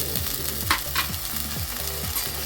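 Onion and soaked moong dal are stir-fried in a pan, making a close sizzle broken by quick, repeated scrapes of a spatula and a couple of brighter clatters, with no voices.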